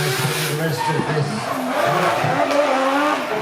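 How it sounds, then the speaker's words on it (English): Drift car tires squealing through a long continuous slide as the driver warms them during qualifying at the Borneo Star Drift Series in Miri, Sarawak, with engine noise running underneath and commentary faintly mixed in. "warming the tires."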